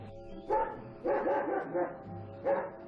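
Guard dogs at a rural farm compound near São Paulo bark in several short bursts, moderately loud and close, with a low background hum.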